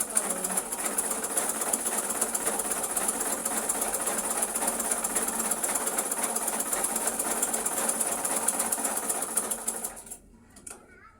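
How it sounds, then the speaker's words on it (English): A sewing machine stitches the center dart of a lace blouse, a continuous rapid mechanical whirr with a steady clatter, close and even, stopping abruptly near the end. "We start by stitching the center dart."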